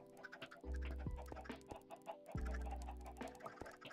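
Video game chickens cluck and squawk in short bursts over a steady layer of game music, with several sharp clucks scattered across the few seconds.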